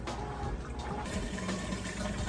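A Whirlpool washing machine drains water quickly as it switches to the rinse cycle, giving a steady, loud rush and gurgle of flowing water from close by, with no speech.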